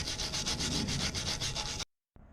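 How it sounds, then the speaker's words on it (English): A nylon brush scrubs a car valve cover with quick rhythmic strokes, close and fairly loud, then stops abruptly into near silence. "Just going to take this nylon brush and hit up this valve cover and see how much stuff we can get off."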